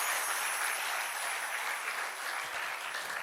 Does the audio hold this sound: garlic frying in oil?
no